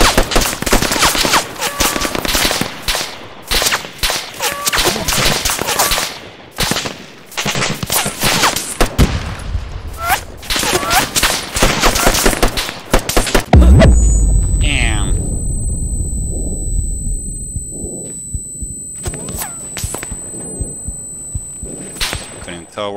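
Arma 3 gunfight: rapid bursts of close automatic gunfire and sharp shots crackle for over ten seconds, then a large grenade blast booms and rumbles away, followed by a faint ringing tone over quieter ambience.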